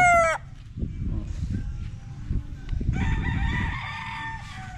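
Free-range roosters crow, one loud nearby call at the start and another longer crow later, over faint clucking and farmyard rustle.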